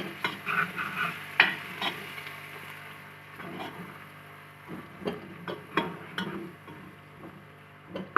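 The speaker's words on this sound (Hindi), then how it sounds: "इसको फ्राई करेंगे।" Grated ginger and crushed garlic frying in oil for a beef paya trivet dish, with stirring scrapes and bursts of sizzle that come and go in an irregular rhythm, close by with no talk.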